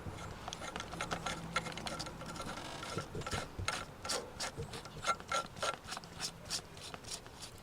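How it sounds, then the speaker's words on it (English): A glow plug being threaded and snugged down by hand on a Vauxhall engine, heard as faint, quick mechanical clicking and ratcheting ticks in irregular bursts, growing denser toward the end. "I'll try and torque it down with hands for now"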